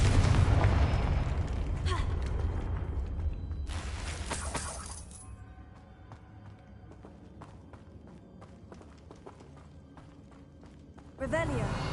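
Confringo fire spell explodes in Hogwarts Legacy: a loud crackling blast opens, fades into rumbling debris and scattered small crackles, with a second burst near the end; a voice speaks over it.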